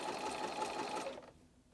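A sewing machine running fast on a zigzag stitch to gather fabric, a steady close whirring chatter that stops abruptly near the end, leaving quiet.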